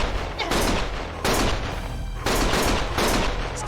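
Gunfire in the video game Lost Judgment: loud, dense bursts of rapid shots come in several waves, close and forceful, with brief gaps between volleys.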